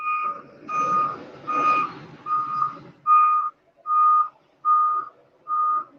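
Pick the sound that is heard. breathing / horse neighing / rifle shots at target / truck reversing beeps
truck reversing beeps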